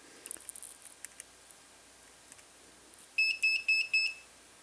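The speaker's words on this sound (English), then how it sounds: "That's an alarm." An electronic alarm goes off on a workbench during soldering of an audio analyzer kit. It sounds as four loud, evenly spaced high beeps after faint ticking and clicks.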